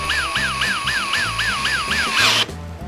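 A close Xiaomi 12V Max cordless drill driving a bolt whirs in rapid pulsing bursts, its motor pitch rising and falling rhythmically before cutting off abruptly near the end.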